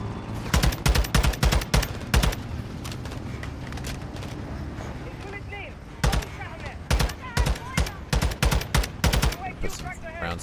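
Call of Duty MW2 machine gun fire hammers out in rapid, loud bursts, pausing briefly in the middle before resuming in a second string of shots over a background rumble.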